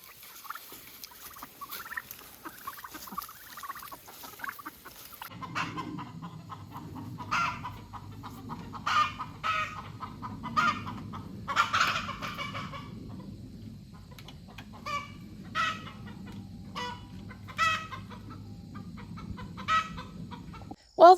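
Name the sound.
chickens clucking on a farm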